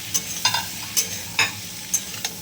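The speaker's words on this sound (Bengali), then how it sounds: "আমি একটু ভেজে নিচ্ছি।" Vegetables sizzle in a pan with green and yellow capsicum and chopped tomato, stirred repeatedly so that scraping clicks and hisses recur roughly every half second over a steady frying crackle, with no talking.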